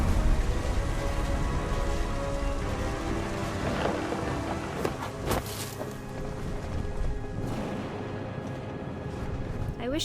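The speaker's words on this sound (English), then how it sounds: "The thunder sounded much too close and full of angry power." Thunder and heavy rain in the video game What Remains of Edith Finch, a constant rain wash with low rumbling thunder swelling in the middle, fairly loud and close, with no talk.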